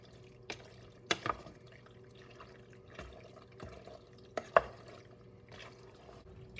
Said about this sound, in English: So mix this very well.